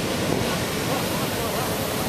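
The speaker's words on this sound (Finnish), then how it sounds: "the waves are picking up very fast" Big ocean waves on Oahu's North Shore roar in a steady, loud wash of surf with wind buffeting the microphone throughout.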